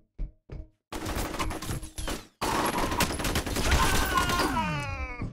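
Enemy gunfire in the video game F.E.A.R. comes as bursts of loud rapid shots and clattering impacts that fill most of the moment, with short gaps between early bursts, followed by a sustained barrage.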